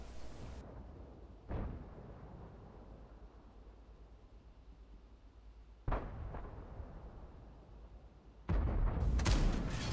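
A tank cannon fires in World of Tanks, with sharp booming shots spaced several seconds apart, one near the start, one mid-way and a louder burst near the end, over a low rumbling battlefield drone.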